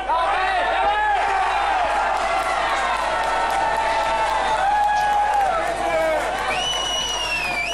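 A home crowd cheers and whoops after Gütersloh's equaliser in a women's football match, a steady wall of loud, sustained crowd noise with shouting voices and a whistle-like tone rising near the end.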